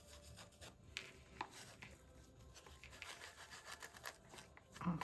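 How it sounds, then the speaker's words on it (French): Dry fingers rub gold leaf during gilding, giving a faint, soft, continuous scratchy friction with small uneven strokes and no voices. "On frotte."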